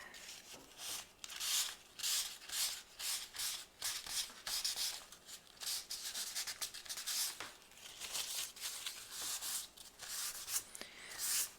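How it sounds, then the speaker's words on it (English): Rag rubbing wet paint off an artwork with solvent: soft repeated wiping strokes, close and quiet, alone with no talk. "let's see if I can wipe off some of this with my solvent"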